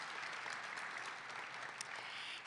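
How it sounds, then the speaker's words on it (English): An audience at a valedictorian ceremony claps steadily in a dense, faint wash of applause from a crowd, with no voices over it. "a round of applause for her"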